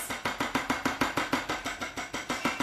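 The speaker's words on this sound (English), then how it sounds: "See, I am using stencil brush" A stencil brush dabs paint onto a wooden MDF decoupage piece in steady, rapid taps, about five per second, close and crisp with no talk over it.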